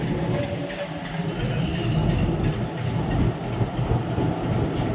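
A passenger train running late pulls in to Puri station, its rolling rumble and rhythmic wheel clatter loud and continuous.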